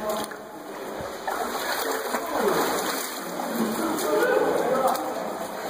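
Water splashes and sloshes as someone wades into a slot canyon in Zion National Park, with a steady stream running in the background and soft voices now and then.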